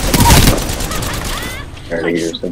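Bursts of rapid gunfire from the Apex Legends video game crackle loudly at the start, then fade as a player talks over the action.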